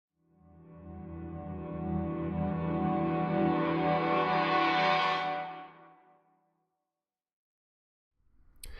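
A piano swell that builds from silence into a thick, processed wash, then cuts off abruptly and fades, followed by a brief quiet.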